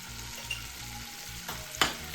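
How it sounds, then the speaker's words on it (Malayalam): Paneer pieces fry in hot butter for a paneer butter masala, a close, steady sizzle broken by a couple of sharp scrapes of a stirring utensil near the end. "ഇനി നമ്മളതിലേക്ക് കട്ട് ചെയ്ത് വെച്ചിരിക്കുന്ന പനീർ കഷ്ണങ്ങൾ ഇതിലിട്ട് നമുക്ക് ഒന്ന് വറുത്തെടുക്കാം."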